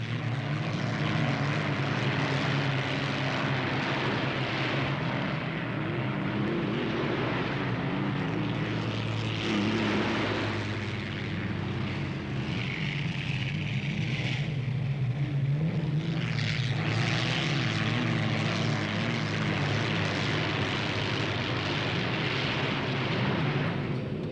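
Unlimited hydroplane racing boats roar away for the next heat of a Gold Cup race, their engines a continuous loud, droning rumble that swells and shifts in pitch as they pass, with no voices.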